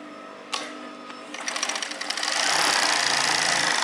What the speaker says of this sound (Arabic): نعمل اوفر بقى كله ده تاني كده اهو